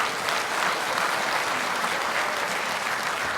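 Steady, dense applause fills the hall from an audience at a Democratic Party legislative report meeting, sustained and even throughout with no pauses.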